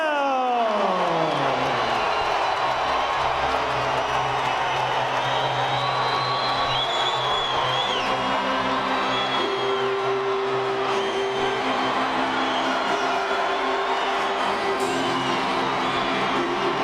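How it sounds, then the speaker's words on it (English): A boxing arena crowd roars and cheers steadily for a fighter's ring introduction, a broad sustained din with whoops rising through it, while a commentator talks over it. "What an exuberant reaction from these fans."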